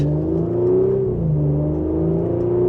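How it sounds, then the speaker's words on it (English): A 2025 Audi S5 Sportback engine hums steadily with a low, smooth tone, rising slightly in pitch as it picks up speed under mild acceleration, close and continuous throughout. "with a mild acceleration, we're back up to speed. It sounds very good too."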